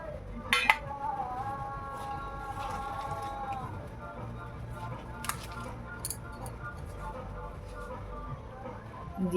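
A spoon mixing gram flour and rice flour batter in a bowl, soft clinks and scrapes against the dish at close range, with a voice talking over it.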